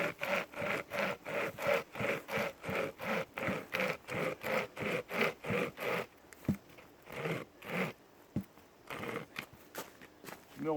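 A Nordic Pocket Saw cuts through a log about 10 cm thick in a steady run of even, rhythmic rasping strokes, close by. The strokes then slow and break up into scattered scrapes and knocks.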